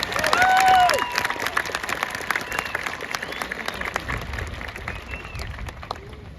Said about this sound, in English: Can we get one more round of applause for our fantastic speakers?